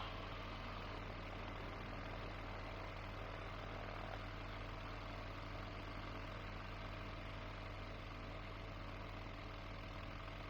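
A small bush plane fitted with upgraded bush tires taxis on the ground, its engine and propeller droning steadily and loudly at low idle throughout, with no talk over it.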